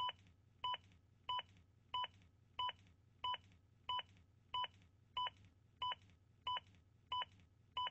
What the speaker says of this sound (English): The beeps will speed you up.